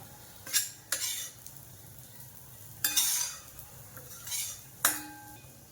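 Figs roasting in ghee in a pan for dry fruit laddoos, with a soft sizzle under several sharp scrapes and clatters of a spatula against the pan, spaced about a second or two apart.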